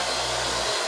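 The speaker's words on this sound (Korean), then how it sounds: "녀석이 좋아하는 화장실에서 겨우겨우 드라이기로 말려봅니다." A hair dryer blows steadily in a bathroom while drying a wet cat, a loud continuous whooshing hiss close by that cuts off at the end.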